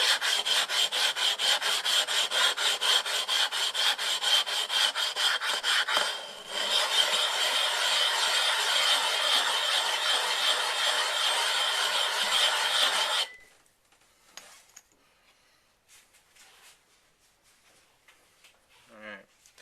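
A steel blade rasps rhythmically across a coarse 60-grit Nubatama waterstone in rapid close strokes, pausing briefly, then continuing before stopping into quiet with faint clicks.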